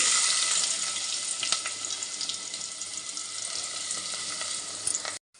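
Chopped onions fry in oil for a bitter gourd curry, a steady close hiss with faint crackles that runs loud, then cuts off abruptly near the end, no talking.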